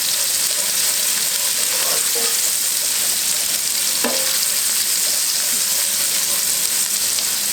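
Chopped shallots sizzle steadily in a hot pan for the chicken dish, a constant bright frying hiss with a couple of brief scrape-like stirring clicks, close up and with no talking.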